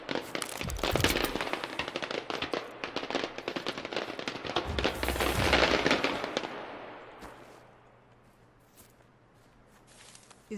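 Purple and pink flares fire in the video game Generation Zero, a rapid crackling burst of sharp pops like firecrackers that swells, peaks, then fades into quiet with a final faint snap.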